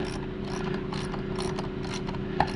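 A hand ratchet snugs down a GM Genuine Parts mass air flow sensor, 23366103, making a continuous rapid clicking of the pawl, close and fairly loud, ending in a sharper click.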